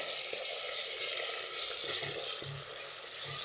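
Biryani paste and masala sizzle steadily in a hot pan, a continuous close hiss broken by soft scraping stirs of the spoon.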